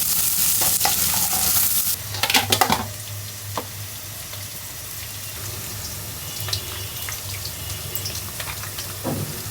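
Onions frying in a pan in a home kitchen with stirring, a steady low sizzle and hiss running throughout, with a brief burst of scraping and clatter near the start and occasional utensil clicks.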